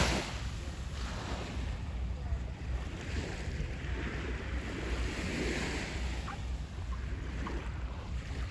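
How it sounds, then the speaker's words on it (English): Storm-churned waves break and wash continuously on Miller Beach along Lake Michigan's shore after a week of storms, a broad, steady roar mixed with gusty wind buffeting the microphone. "I'll let you hear the waves."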